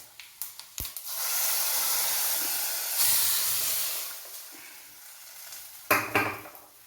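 Hot tempering poured into a Kerala prawn, jackfruit-seed and mango curry, giving a few clinks, then a swelling hiss of sizzling steam that rises again and fades, followed by sharper clatters near the end.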